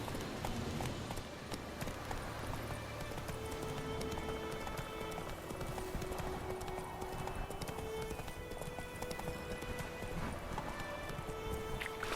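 Roach, Geralt's horse in The Witcher 3, trotting with steady rhythmic clip-clop hooves throughout, under a bed of ambient game sound and faint tonal music.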